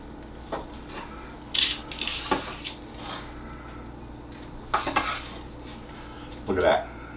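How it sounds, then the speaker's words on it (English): A knife slices through a sous vide steak on a board, with several separate scraping cuts and clicks spread out over a few seconds against a quiet background. "let's just start by slicing it right here in the middle."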